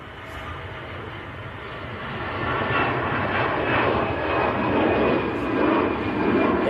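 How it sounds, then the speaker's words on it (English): Lufthansa Airbus A320 taking off at Manchester Airport, a steady broadband engine roar that swells louder partway through and holds as the jet climbs away, heard alone with no talk. "Lufthansa, just getting airborne."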